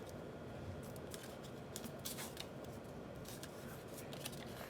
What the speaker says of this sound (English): Then we're just going to swivel fold this crease to this edge